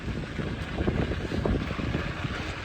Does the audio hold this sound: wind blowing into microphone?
yes